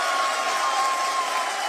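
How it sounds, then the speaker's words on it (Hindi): Steady applause from a crowd in ISRO mission control as Chandrayaan-3 completes a landing phase, a continuous even wash of clapping with faint cheering, no distinct individual claps. "People are applauding."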